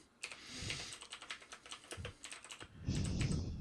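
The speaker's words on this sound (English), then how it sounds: "Until I have to type on my mechanical keyboard" Rapid clicking keystrokes on a mechanical keyboard, close and crisp, in an uneven typing rhythm that ends with a brief louder clatter.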